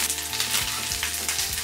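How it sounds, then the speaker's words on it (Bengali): Fish fries in hot oil for a crispy finish, a dense, close crackling sizzle with no talk over it. "মাছটা ক্রিস্পি করে ভাজার খুব চেষ্টা করছি"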